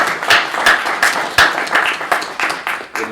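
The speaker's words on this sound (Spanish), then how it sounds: "les pido un aplauso para este autor que está aquí" Audience applause for an author at a book presentation at the FIL Guadalajara 2021 book fair, a moderate patter of clapping with distinct louder claps standing out, steady over a few seconds.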